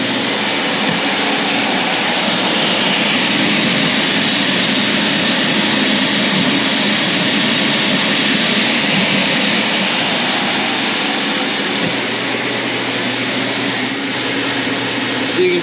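A farmer-designed bulk seed treater runs an empty calibration cycle on 110-volt power, making a loud, steady mechanical whir and hum that holds almost unchanged throughout.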